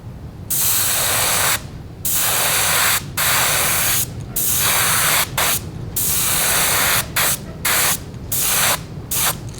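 A spray gun puts paint along the belly of a crappie fishing lure, with color shift paint. It sounds as loud, close bursts of airy hiss, about eight of them, some long and some short, split by brief silences.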